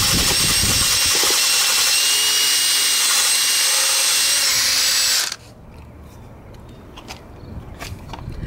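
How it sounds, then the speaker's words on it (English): A power drill with a wire brush, cleaning a scooter, whirs loudly and steadily for about five seconds, then cuts off, leaving faint clicks and light rustling. "you can get right here with the drill, because the drill's gonna do a lot better than the wire brush will."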